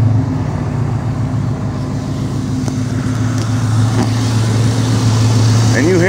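Steady idle of a 1989 Dodge Ramcharger engine, a smooth, even hum with no knocking, heard close up and continuous throughout with no speech.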